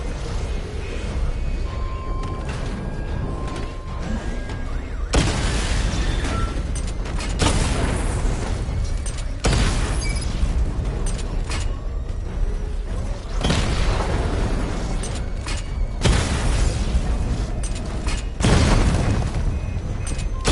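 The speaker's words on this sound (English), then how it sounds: "Charge the missile barrage to level 2 to destroy up to 4 targets at once." Missile barrage explosions from the video game Gotham Knights, a string of loud, deep booming blasts that land in repeated bursts over a steady mechanical rumble, with no voices.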